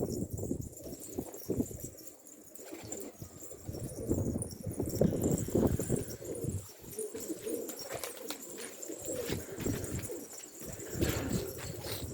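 Tumbler pigeons coo steadily in a loft, with soft wing flutters and scuffling close by; no one speaks.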